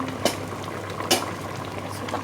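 Beef stew bubbles gently in a pot, a soft continuous simmer with a couple of brief louder pops of bursting bubbles, heard close up.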